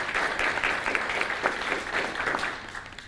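An audience at a health friendship forum claps in a steady round of applause, moderately distant, fading toward the end.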